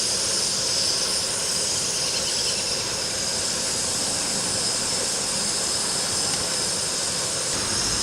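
A Kovea Supalite titanium camping stove roars at full flame, a steady close, broad rushing hiss with no break and no talk, as oatmeal cooks on top.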